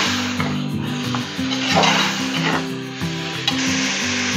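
Chicken sautés for biryani in a pan, a steady sizzle with occasional stirring and clinks of utensil against the pan, set beneath continuous background music.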